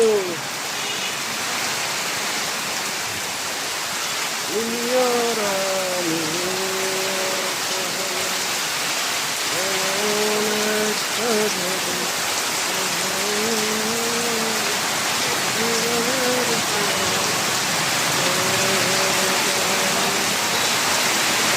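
Steady heavy rain from a storm in Feni pours down as a dense, continuous hiss throughout, with a voice singing and chanting loosely over the downpour.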